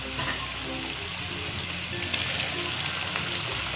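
Seekh kebabs frying with chickpeas in a pan for a chickpea korma, a steady close sizzle with faint stirring throughout and no talk.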